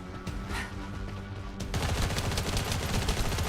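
Rapid automatic gunfire from The First Descendant starts partway through and keeps up a dense, steady rattle over the game ambience.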